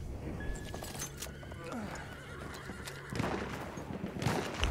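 A horse neighs and whinnies amid hooves clopping in the World War I shooter Battlefield 1, with gunfire crackling around it and a busy battlefield din throughout.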